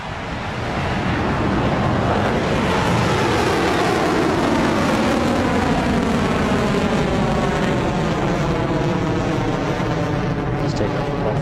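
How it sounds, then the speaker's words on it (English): A Rocket Lab rocket lifting off, a continuous loud, broad roar that swells in after a second and holds steady, rumbling and crackling like heavy surf or wind. "We have liftoff."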